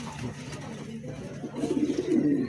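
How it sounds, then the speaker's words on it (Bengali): A pair of caged tiger pigeons coo softly, the low burbling calls growing louder toward the end, with faint voices and room noise in the background. "খুবই চমৎকার একজোড়া কবুতর"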